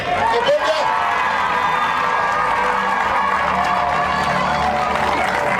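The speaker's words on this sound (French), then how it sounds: "Acclamez bien." Crowd at an evangelical church crusade in Lomokankro cheering and applauding, a dense continuous roar of voices and clapping that stays loud and steady throughout.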